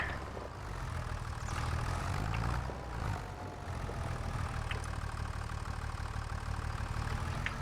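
A tractor in the farming game Farming Simulator 25, straining with heavy hay bales, runs with a continuous droning engine hum that rises and falls slightly in intensity, steady throughout with no talking.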